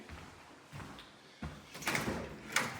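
A house door leading out to the garage is opened, giving a few soft knocks and a latch-like clunk followed by brighter rattles and a sharper bump near the end, fairly close in a quiet room.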